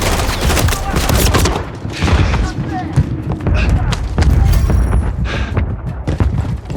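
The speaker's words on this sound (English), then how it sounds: "Felt that explosion over here, 6." Explosions and gunfire in Call of Duty Modern Warfare III, a dense, loud battle mix of booms and rattling shots running continuously, with radio voices talking over the combat.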